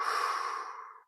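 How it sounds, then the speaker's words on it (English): A single deep exhale during a hips and hamstrings yoga stretch, a close, breathy sigh that fades out after about a second. "Take a deep breath in. Exhale."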